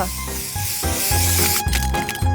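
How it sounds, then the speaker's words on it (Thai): Freeze spray blasted onto a lemon-juiced watermelon in a kitchen, giving a loud, close hiss in several short bursts with brief pauses between them. "จากนั้นก็ฉีดสเปรย์แช่แข็ง มันจะแข็งตัว"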